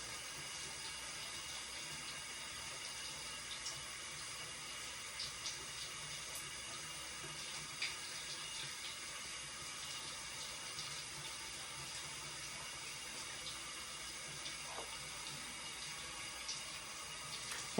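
Shower water runs steadily during a hair wash with a shampoo brush massager, a faint, even hiss of spray with small splashes and no talking.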